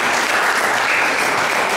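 Audience at a scientific education seminar applauding, a dense, steady burst of clapping from many hands filling the whole moment.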